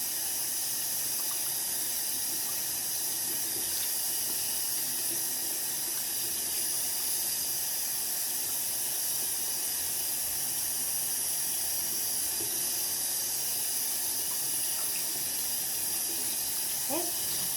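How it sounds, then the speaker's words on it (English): Hands being washed under a running sink tap, a steady close hiss of flowing water that continues unbroken with no talking. "Now I'm going to wash my hands without touching the steam."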